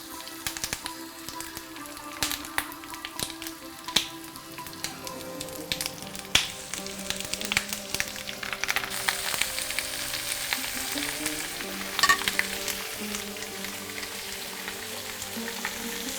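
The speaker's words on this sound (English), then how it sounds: "It's going to start frying" Coated wild-caught Oregon steelhead fillets fry in a pan for a Kerala-style fish fry, a continuous crackling sizzle that grows denser and louder partway through, with scattered pops and no talk.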